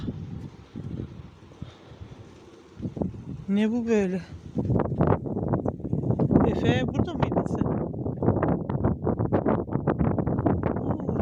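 Gusty wind buffets the microphone in low rumbling bursts while a person talks nearby.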